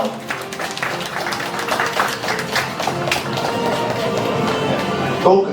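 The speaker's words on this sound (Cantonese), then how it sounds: "我哋俾掌聲高教授" Audience applause for a prize winner at a health achievement awards ceremony, steady clapping from a crowd throughout with a voice speaking over it.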